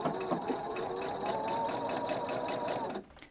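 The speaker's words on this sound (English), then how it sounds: "let's get going now and just sew this piping into the binding" A sewing machine runs steadily, stitching piping into a fabric binding for dressmaking. The motor hums close and loud for about three seconds, then stops abruptly.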